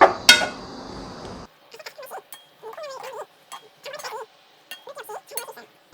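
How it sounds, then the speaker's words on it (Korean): Seasoned Korean bean sprouts (kongnamul muchim) tossed and mixed with seasoning in a bowl: a close, brief burst of wet rustling with a couple of bright clinks. Then it goes quiet and a soft voice is heard. "양념이 골고루 묻힐 수 있도록 잘 섞어주세요."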